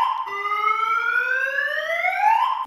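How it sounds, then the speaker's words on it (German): A Pandora alarm installed in a BMW M3 CS sounds off as a loud, clear electronic wail that sweeps steadily upward in pitch for about two and a half seconds, heard alone. "dauert, bis die Alarmanlage den Alarm auslöst."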